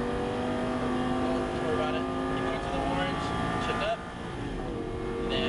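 Lamborghini Gallardo engine on a track, a steady loud drone with stacked harmonic tones that climb and then dip sharply as it shifts up, heard from inside the car under an instructor's talk.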